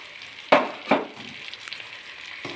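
Sugar dropped into a hot pan sets off two sharp sizzling bursts close by, followed by softer crackling and the faint scrape of stirring as the frying settles down.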